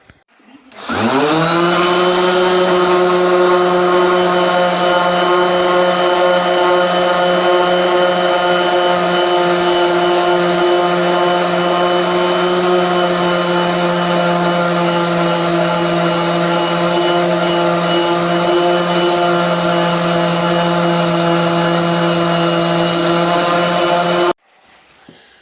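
Power sander runs continuously on furniture, stripping old varnish, producing a loud, steady motor whine and grinding hum that starts abruptly, holds unchanged for over twenty seconds, then cuts off.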